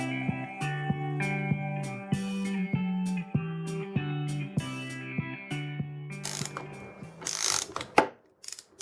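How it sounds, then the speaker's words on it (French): A ratchet wrench clicks in quick bursts while a buggy gearbox is reassembled, close and distinct with metallic gear sounds between strokes, ending in louder clattering handling noise. "je vais commencer à claquer la clé"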